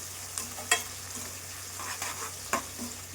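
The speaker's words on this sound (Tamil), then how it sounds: "இப்போ ஒரு குட்டி தக்காளி. நல்லா இஞ்சி பச்சை வாசனை போகிற அளவுக்கு நல்லா கொஞ்சம் வதக்கிக்கலாம்" Onion, green chilli, curry leaves, tomato and ginger being sautéed in a pan for a sardine fish curry: a soft steady sizzle broken by a few sharp scraping stirs of a spoon against the pan.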